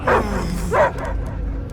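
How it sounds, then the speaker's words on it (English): A dog in Marvel's Guardians of the Galaxy game gives two loud, close barks about half a second apart, followed by quieter ambient sound. "I hear only barking."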